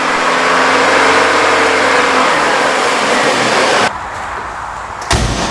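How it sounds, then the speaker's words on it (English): A Saab 900 engine with the clutch and pressure plate installed runs loud and close as the throttle is advanced, a steady broadband roar that drops to a quieter idle near the end, followed by a brief bump. "with the engine running, the clutch fully installed, the pressure plate spinning away there, and I'm advancing the throttle"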